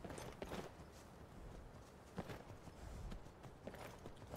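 Soft, irregular hoof clops of a horse walking at a relaxed pace in Skyrim, faint and somewhat distant.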